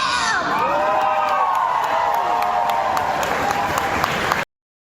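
A crowd cheers, whoops and claps in a recording played back, with children's shouts mixed in. The steady roar holds loud and unbroken for about four and a half seconds, then cuts off abruptly.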